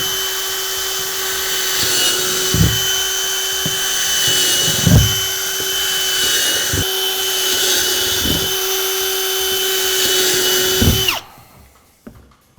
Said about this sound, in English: I'll just kind of drill 2 holes in